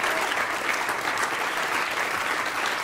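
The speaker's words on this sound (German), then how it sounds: "Ein herzlicher Applaus für den jüngsten Musiker." Audience applause for the youngest musician at a children's detective-themed concert: dense, steady clapping from a crowd, fairly close and even throughout, with no voices over it.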